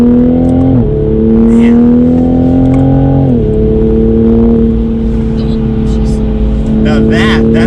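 A90 Toyota Supra engine pulling hard around a race track, a loud steady drone that climbs in pitch, dips briefly near the one-second mark, climbs again, then drops at the next shift, with someone talking briefly over it.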